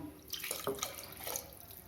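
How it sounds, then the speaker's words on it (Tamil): Water splashes and trickles into a cooking pot of black pepper and cumin kuzhambu in a short, soft burst, heard close by in a quiet room. "குழம்புக்கு தேவையான தண்ணி ஊற்றிக்கணும்"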